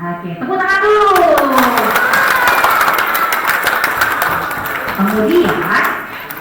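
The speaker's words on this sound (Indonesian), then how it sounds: "Oke, tepuk tangan dulu." Schoolchildren clap together at an elementary school Isra' Mi'raj gathering, a dense burst of hand claps lasting several seconds, with excited young voices calling out over it and speaking at the start and end.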